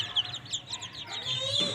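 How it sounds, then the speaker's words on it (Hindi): Several chickens clucking and chirping nearby in quick, irregular bursts, fairly faint, with a soft background murmur. "ये देखें, ये इन मुर्गियों के हाल देखें।"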